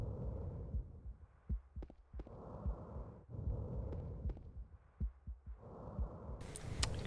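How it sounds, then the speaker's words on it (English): Slow, heavy heartbeat thuds pulse beneath ragged, labored breathing in a Silent Hill 2 game room, the muffled throbs repeating close and steady over a low droning ambience. "You can hear a heartbeat and some labored breathing."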